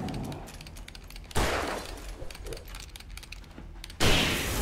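Rifle fire in Alan Wake Remastered: two loud, sharp shots separated by a few seconds, each with a booming tail, over a quieter stretch of faint rustling game ambience.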